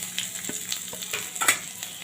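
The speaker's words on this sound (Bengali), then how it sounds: "পেঁয়াজগুলো আমি লাল লাল করে ভেজে নেব।" Chopped onions frying in hot oil with cumin seeds and dried chillies in a home kitchen, giving a steady crackling sizzle with scattered pops and the odd stir, close and unbroken by talk.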